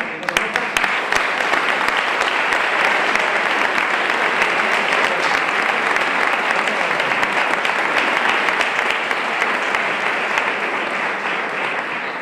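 A large concert audience applauds continuously, a dense, steady roar of clapping that holds at full strength throughout and eases only slightly at the end.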